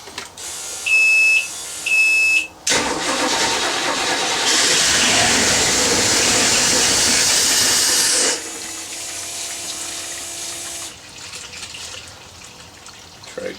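An inboard boat's port engine starts during winterizing. Two short electronic beeps come first, then a loud, steady rushing roar for about six seconds, which drops to a quieter, steady running hiss.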